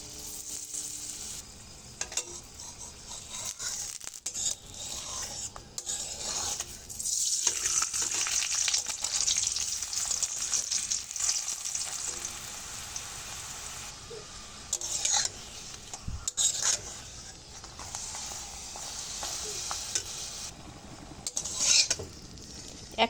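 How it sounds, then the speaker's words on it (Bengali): Palm-flavoured paratha frying in oil in a hot wok, a dense continuous sizzle held for the whole stretch, with occasional scrapes and clinks of a spatula against the metal, close up and with no talking. "এবার আমি একটা পরোটা দিয়ে দেব"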